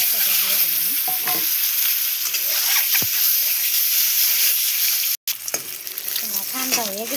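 An egg fries in a pan with a little oil, turmeric and salt, giving a loud continuous sizzle and hiss with a few faint clinks and a short break.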